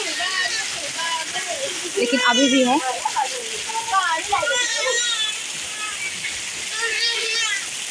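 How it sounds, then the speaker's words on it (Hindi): Heavy rain pours down with water flowing into a farm field, a constant hissing wash with splashing, while people talk over it throughout. "बहुत तेजी से बारिश हो रही है, देख लीजिए पानी बह बह के सब खेत में जा रहा है"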